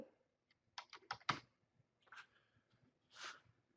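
Quiet keystrokes on a computer keyboard while editing a CRM record field come in a quick burst of several clicks, then a couple of sparser taps, all close and soft in an otherwise silent room.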